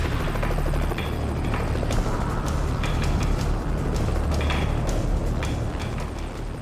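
Rescue helicopter battling strong wind over the Australian outback, a loud continuous rotor roar and engine drone dominating throughout, close and steady with no voices.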